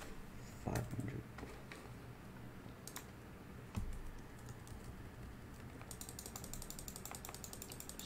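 Scattered computer keyboard clicks and taps, a couple of sharper knocks, over a low steady background hum; fairly close but not loud.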